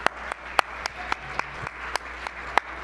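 A sparse round of applause at a charity arts gala during a live auction, a handful of distinct claps spaced out over a soft room hum, fairly faint and without voices.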